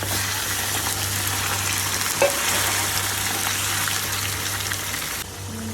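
Buffalo meat frying in a pan, a steady loud sizzle with a constant low hum beneath it and one brief clink partway through, continuing without talk.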